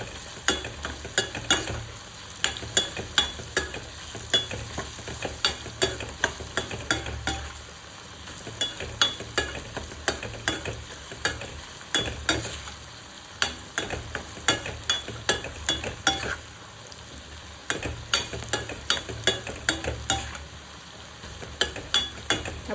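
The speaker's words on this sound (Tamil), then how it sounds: "அப்படியே எண்ணெயிலே கொஞ்ச நேரம் அப்படியே வதக்கி விடுங்க." Gooseberry pickle sautéed in sesame oil, a spatula scraping and tapping the pan in quick repeated strokes over a low, continuous sizzle, with brief pauses between bursts of stirring.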